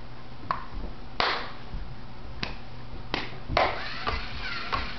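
Several sharp, close hand claps ring out at irregular intervals to start a Lego Mindstorms scorpion robot, each a crisp isolated smack over a quiet room background.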